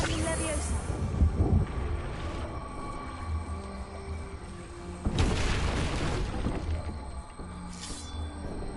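A Confringo blasting spell explosion in Hogwarts Legacy: two deep booming blasts, one near the start and a louder one midway, each with a rumbling tail over a droning game backdrop.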